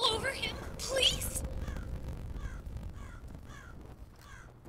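In the Rise of Insanity horror game, a crow-like bird caws several times, harsh and fairly distant, over a low rumbling ambience.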